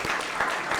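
Audience applause at a sports management sustainable development goals competition, a brief burst of steady clapping from a room of people, fairly close and even throughout.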